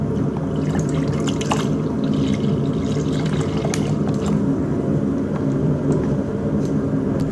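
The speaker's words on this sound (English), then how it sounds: "Add the milk." Milk poured into a pan for macaroni and cheese, off the heat, giving a steady liquid pour and trickle that runs unbroken throughout at moderate loudness, with no talking.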